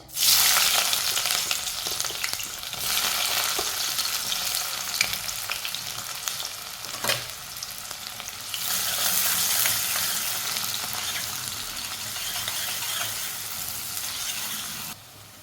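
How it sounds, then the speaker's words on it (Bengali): Chopped onion hits hot tempering oil in a pan while beef curry is being made, giving a loud, steady, close-up sizzle that crackles continuously throughout and swells slightly at the start and again midway. "ফোড়নের জন্য তেল দিয়ে দিয়েছি, তেল গরম হয়ে গিয়েছে। দিয়ে দিচ্ছি পেঁয়াজ"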